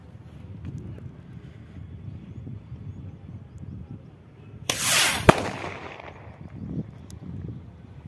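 A homemade gulal firework rocket lights and launches with a sudden loud whoosh and crackling burst, then fades back into light wind noise outdoors.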